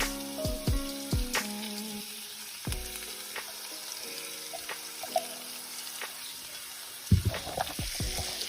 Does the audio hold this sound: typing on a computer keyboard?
no